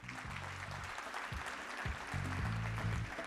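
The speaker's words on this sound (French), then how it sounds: "On peut les applaudir, c'est Edge." An audience applauds at a CFO awards night, steady clapping filling a large room, with low rumbling thumps and a louder swell toward the end.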